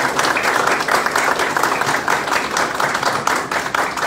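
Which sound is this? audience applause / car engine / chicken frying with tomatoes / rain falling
audience applause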